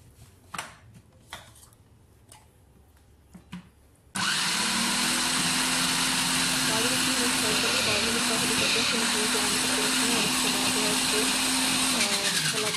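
Westpoint WF-1858 jumbo food factory shredding carrots: after a few soft knocks, the motor switches on abruptly and runs as a loud, steady, high-pitched whine with gritty grinding, continuing unbroken to the end.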